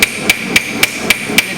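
A ball peen hammer strikes sheet metal in steady planishing blows on a hotrod build, six bright ringing taps spaced evenly about a quarter second apart, loud and close with no talking.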